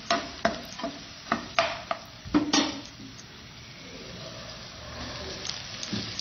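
Chili, garlic and onion stir-fried in a pan, with a spoon scraping and clattering in a burst of sharp strokes, then a steady low sizzle.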